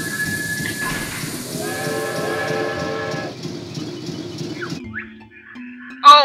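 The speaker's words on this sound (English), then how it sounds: "Oh, I think I heard the train arrive." A train in the Banjo-Tooie video game pulls into a station, a steady rhythmic clatter with a whistle-like tone over game music, fading near the end before a brief bright chime.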